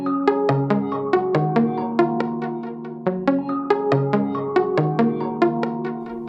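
Layered hyperpop synth melodies with vocal chops, built in FL Studio: bright plucky notes repeat in a steady, bouncy rhythm over warm sustained chords, loud and full throughout with no talking.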